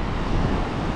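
Wind blows on Granite Island, a steady broadband rush buffeting the microphone for about a second with no talk.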